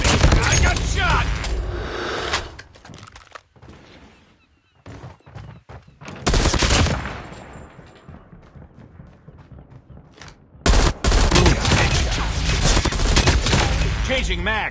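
Gunfire in the Call of Duty Mobile shooter game: loud, dense bursts of rapid shots cut in and out, with a long stretch of sustained fire near the end and quieter gaps between volleys.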